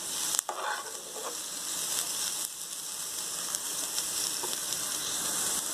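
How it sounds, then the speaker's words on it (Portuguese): Chopped garlic frying in hot oil in a pan while being stirred, a steady close sizzle with a few scraping stirs near the start, no talking over it. "Vamos colocar o alho lá. Vamos mexer."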